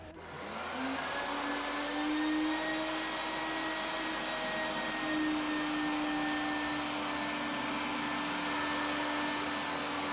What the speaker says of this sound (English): you're going to need this vacuum. Get the rest of the water out of there.